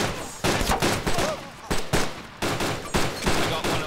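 Rapid bursts of gunfire in the survival video game DayZ during a convoy fight, loud repeated volleys cracking in quick succession with short gaps, mostly alone with no clear talk.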